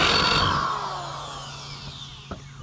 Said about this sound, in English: luckily, the neighbor had a drill